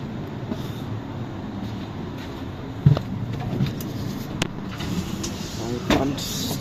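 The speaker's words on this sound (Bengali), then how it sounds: "আর এই তো আমরা ট্রেনে বসে গেলাম সিট নিয়ে" Steady rumble of a Swiss train interior in motion between Basel and Luzern, with occasional clicks and knocks from the carriage and faint voices in the background.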